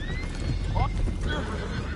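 Horses neighing in Red Dead Redemption 2 aboard a boat during a fight, a sharp whinny rising over rumbling hooves and background commotion, with voices talking beneath.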